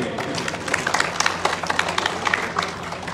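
Audience applause at a Pothwari poetry programme, a dense continuous patter of many hands clapping at close range under a murmur of crowd voices.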